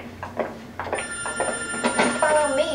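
A telephone rings repeatedly inside a 1940s Los Angeles office scene in the video game L.A. Noire. The bright, steady bell sounds over faint voices and game ambience.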